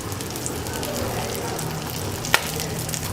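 Pork lumpia fry in a pan with a steady close sizzle that holds for the whole stretch, broken once by a brief sharp clack, likely the spring rolls being turned.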